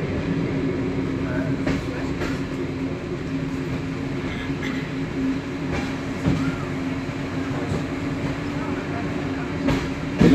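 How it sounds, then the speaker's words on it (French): A heritage train of the Agrivap association pulls out of Ambert station, with a steady rolling rumble, low engine drone and occasional clanks of the cars. The sound is close and continuous, and a few faint voices can be heard. "nous quittons la gare d'Ambert avec le matériel de l'association Agrivap"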